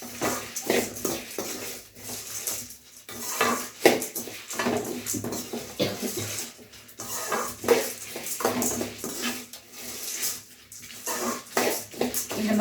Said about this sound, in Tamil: உங்களுக்கு தேவைப்பட்ட அளவுக்கு நீங்கள் மிளகாய் எடுத்து எல்லாம் இந்த மாதிரி விடாமல் வறுக்கணுங்க